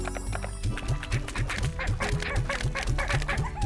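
Chickens in the Slime Rancher video game give rapid repeated clucking calls in a steady rhythm, loud and close over a continuous game soundscape.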